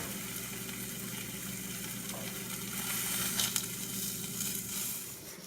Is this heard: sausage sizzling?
yes